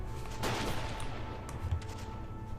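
Machine gun and rifle fire in the strategy video game Battle of Empires, a dense mix of rapid shots and distant battle noise, with a few louder bursts standing out over a constant low rumble.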